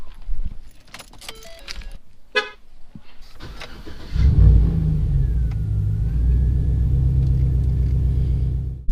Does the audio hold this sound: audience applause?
no